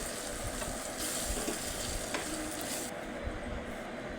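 Spoon stirring potato curry in a pan, with salt and coriander powder just added, giving a steady close scraping and sizzle.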